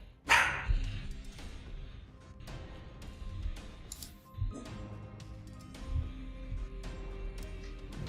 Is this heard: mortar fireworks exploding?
no